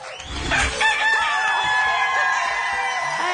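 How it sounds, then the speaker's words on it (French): A rooster crowing sound effect on a French-language TV game show rings out as one drawn-out cock-a-doodle-doo, loud and clear, lasting a few seconds with little else beneath it. "Maxime, le chant du coq signifie qu'on choisit un autre œuf"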